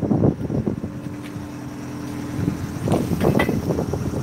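Cold wind gusting outdoors on a freezing day of about 30 degrees or below, a steady low roar with stronger buffeting bursts at the start and end.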